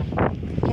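Wind gusts buffet the microphone in a sunflower field, a brief, close low rumbling with two louder puffs.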